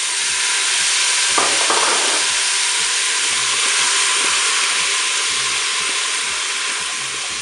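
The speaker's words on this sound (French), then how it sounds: "Je vais maintenant verser les champignons." Mushrooms poured into a Cookeo multicooker on its browning setting fry with a loud, steady, dense sizzle that holds for the whole stretch, close up and uninterrupted by any voices.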